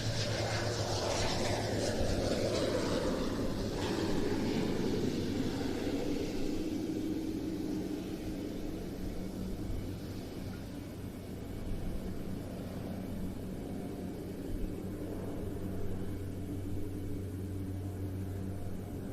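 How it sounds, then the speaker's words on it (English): A de Havilland DHC-8 Fire Swift water bomber passes overhead at an air tattoo, its turboprop drone swelling loud and then fading gradually as it moves away, with a low steady hum beneath. "coming over the top, the de Havilland DHC-8 Fire Swift"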